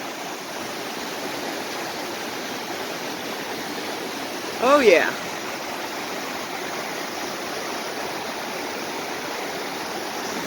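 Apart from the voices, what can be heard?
fast-flowing river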